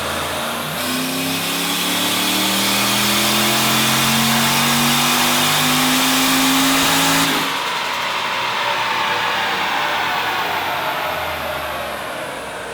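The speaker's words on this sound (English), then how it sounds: "Let's tune it. Let's get a power run." A Nissan Stagea engine revs hard during a dyno power run, its loud drone climbing steadily in pitch for about seven seconds before cutting off abruptly and falling to a quieter, lingering roar.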